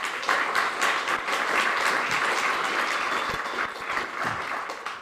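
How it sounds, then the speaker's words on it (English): A conference audience applauds the mayor of Compton at a gun and gang violence conference, dense continuous clapping from many hands holding steady for several seconds, with no speech over it. "So let's please give her a round of applause."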